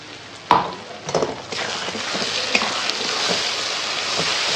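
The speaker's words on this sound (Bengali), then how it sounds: "মশলাটা একটু কষিয়ে নিই" Spice paste with Kashmiri red chili powder and a green chili and tomato paste goes into a hot pan, opening with a couple of thuds before settling into a loud, continuous sizzle of sautéing for mutton.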